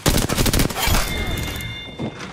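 Rapid bursts of gunfire in the video game Apex Legends, loud and dense at first, then fading into ringing echoes and a final lighter shot, with no voices over it.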